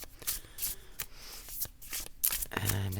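A tarot deck shuffled by hand, with quick bursts of papery riffling and flicks of cards close by, ending in a denser rush of card sounds with a faint low hum beneath.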